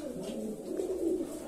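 Pigeons cooing in an aviary, males and females kept together, giving a soft, continuous low burbling from several birds close by.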